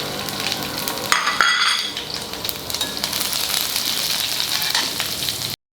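Garlic and cumin seeds sizzle loudly in hot oil in a pan for okra bhaji, a steady crackling fry with a brief stirring clatter near the start.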